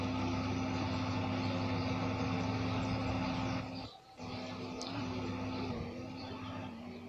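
A tractor engine in the mobile video game Farming USA 2 drones with a steady low hum, briefly dipping in level midway before resuming its constant rumble.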